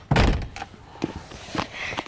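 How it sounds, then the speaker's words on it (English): A back door in a house shuts with a solid thunk and slam at the start, followed by a few softer knocks and rattles nearby. "Oh, the back door."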